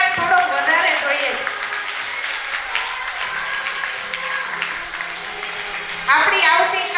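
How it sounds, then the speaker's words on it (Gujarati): Applause from an audience at a school annual function in Amreli, a steady dense patter of clapping that runs the whole time, swelling again near the end, with a voice talking over it. "ધ્યાનથી સાંભળો, મને અહીંયા તાલીનો ગડગડાટ થોડો વધારે જોઈએ"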